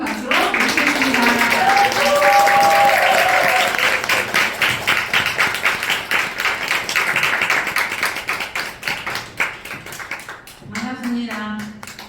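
Loud, sustained applause from an audience welcoming a leader onto the stage at a business event, dense clapping that swells and then tapers off before a voice begins speaking near the end.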